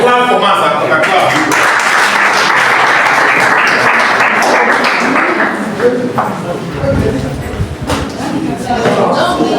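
A class applauding after a simple pendulum physics lesson: loud, sustained clapping from many hands for several seconds, with voices talking through it.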